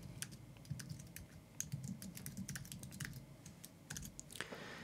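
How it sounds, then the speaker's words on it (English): Quiet computer keyboard typing: a steady, close run of light key clicks with a few brief pauses and a quick burst of keystrokes near the end. "let's start typing"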